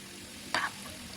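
Grated carrots fry in a pan for gajar halwa: a faint, low sizzle broken once by a short, sharp scrape of stirring midway.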